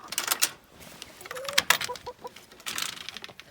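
Hens cluck and call in short bursts as they are let out of their coop in the morning, close by with a few higher squawks scattered through.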